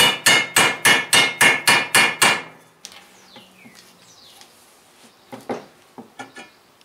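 Eight sharp, evenly spaced hammer taps drive an extractor into a broken exhaust manifold stud, ringing loud and close, followed by faint clinks and a few softer knocks.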